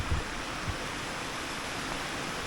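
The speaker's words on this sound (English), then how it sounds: "by this creek here, and it's actually livelier than I thought it would be." A lively creek flows past a Colorado campsite, a steady close rush of water that fills the scene evenly without pauses, with no voices over it.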